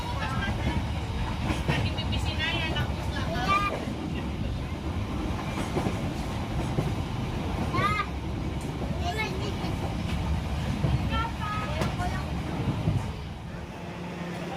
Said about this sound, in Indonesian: kereta api Motis Lebaran Tengah tiba di Stasiun Purwokerto